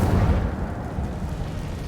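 A fire spell, Incendio, is cast in the Hogwarts Legacy video game: a loud, deep whooshing burst of flame that rumbles and slowly fades over about two seconds, heard alone.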